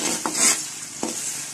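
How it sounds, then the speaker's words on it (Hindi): Onion frying in oil in a kadai gives a soft background sizzle, broken by two brief clinks of a utensil against the pan. "प्याज को हल्का ब्राउन होने तक फ्राई कर लूंगी।"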